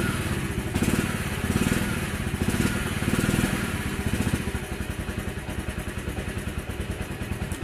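An old Hero Honda motorcycle engine starts and runs at a close, loud, steady idle with a rapid even chugging pulse and some mechanical clatter, no voices.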